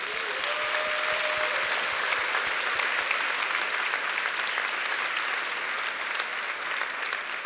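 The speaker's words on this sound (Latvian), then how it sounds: "kas vēlāk sveiciet viņus ar aplausiem." Church congregation applauding visiting guests at a communion service, a steady, dense round of clapping from many hands that fills the room and holds at the same level throughout with no voices over it.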